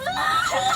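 Someone lets out a loud, close scream under a thin laughing edge, sustained for under a second with no pause.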